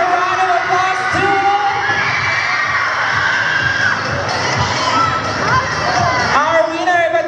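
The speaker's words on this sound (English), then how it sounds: "let's give a round of applause to" A pageant crowd cheering for the winner, with loud sustained shouts, whoops and children's yells filling the room continuously and close by, clapping buried beneath the din.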